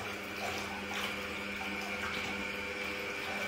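An 1100 gph bilge pump runs held under water, giving a continuous watery whir and churning hum at steady, moderate loudness, with no one talking.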